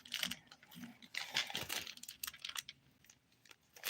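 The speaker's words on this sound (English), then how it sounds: "Use this plastic bag to press down." A plastic bag crinkles and taps while pressed down over freshly dipped nails, a close, quiet flurry of irregular crackles and clicks that thins out toward the end.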